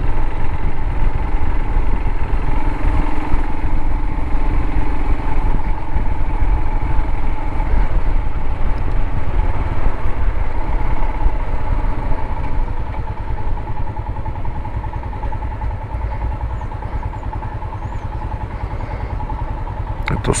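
A Royal Enfield Himalayan motorcycle idles steadily up close, a low, even engine rumble with light mechanical clatter that holds for about twenty seconds, easing slightly toward the end.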